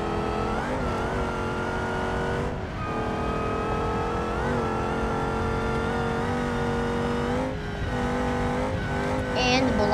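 A fast car racing down a mountain in BeamNG.drive, its simulated engine revving hard and steady with rising and falling pitch as gears shift, loud and continuous, with a brief tire squeal near the end.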